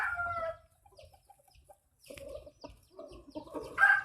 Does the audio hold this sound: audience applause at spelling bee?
no